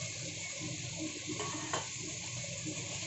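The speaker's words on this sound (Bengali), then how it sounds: "এখন এখানে দিয়ে দিচ্ছি এই সব কেটে রাখা সবজিগুলো।" Chopped vegetables for chilli chicken hiss and crackle in a pan alongside the browned chicken, a steady low-level sizzle with a couple of brief stirring clacks, no one talking.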